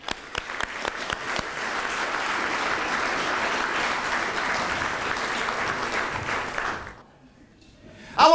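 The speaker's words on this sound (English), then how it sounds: "give them a nice round of applause." Dinner guests at a labor history society awards dinner applaud warmly for about six seconds, sustained clapping that tapers off into near silence before talking resumes.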